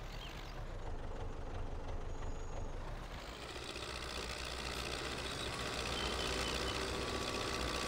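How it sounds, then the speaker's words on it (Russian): MTZ-80 tractor diesel engine, a cotton-harvesting model, cranking and catching, then settling into a loud, steady running rumble that grows fuller after about three seconds. "Один трактор мы запускаем с работничком."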